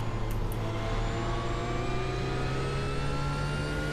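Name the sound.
GT3 race car engine accelerating in the iRacing video game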